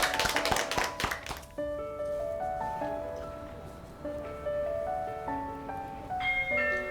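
A group in a TV studio gives a brief burst of applause at the close of a segment about life with pet dogs, and light chiming music takes over.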